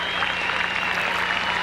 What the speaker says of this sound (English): they're rising with a standing ovation right now.